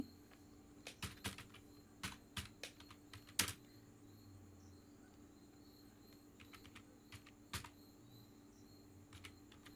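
Keys clack on a computer keyboard during a graphic design lesson, with scattered close taps and short bursts of keystrokes over a faint steady hum and no speech.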